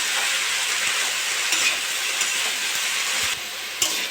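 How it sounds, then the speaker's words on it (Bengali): Potato pieces and drumstick (sajne) flowers fry in oil in a pan, giving a constant close sizzle. Occasional stirring clicks and scrapes break through, and the sizzle softens slightly toward the end. No one speaks. "ফুলগুলো দিয়ে একটু ভালো করে ভেজে নেবো"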